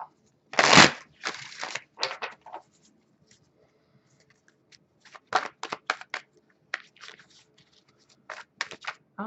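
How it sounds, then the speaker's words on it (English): Tarot cards being shuffled, a loud riffling burst near the start followed by scattered softer flicks, taps and slides of the deck, close and intermittent with quiet gaps. "One more shuffle."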